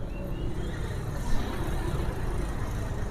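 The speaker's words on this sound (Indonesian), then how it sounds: "untuk bagian mesin suaranya masih halus" A used car's engine idling just after starting, a steady, fairly close low rumble with faint background noise and no talk over it.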